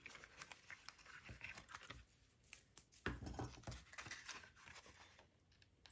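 Strips of tearing tape are pulled and pressed onto the join of a paper pillow gift box, giving quiet, irregular crackles and peeling rasps with a few sharper pops, close and faint.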